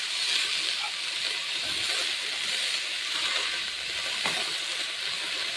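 Dorun greens fry in a hot pan for an Assamese dish, giving a steady, close hissing sizzle throughout with faint stirring scrapes and no talk.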